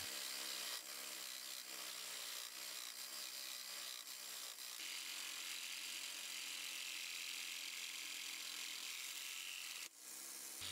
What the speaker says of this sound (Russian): Попробуем более длинную пилку.